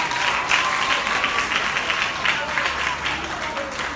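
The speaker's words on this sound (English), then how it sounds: "Give yourselves a round of applause." Students at a school gathering clap in a steady, dense round of applause that fills the room, with faint voices mixed into the crowd noise.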